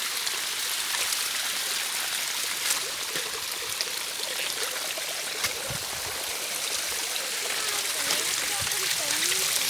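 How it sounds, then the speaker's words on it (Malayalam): Steady rushing water roars without pause, a dense broadband wash like a waterfall close by, with voices faintly audible beneath it. "ഇതാ വെള്ളച്ചാട്ടം. നേരത്തെ നല്ല മഴ"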